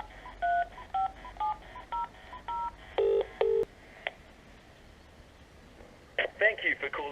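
A phone number is dialed on a telephone keypad, giving a quick run of about eight short DTMF beeps at an even pace, followed after a pause by faint ringing and the start of a recorded voice.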